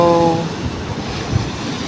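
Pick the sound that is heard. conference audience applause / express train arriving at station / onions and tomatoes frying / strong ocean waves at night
strong ocean waves at night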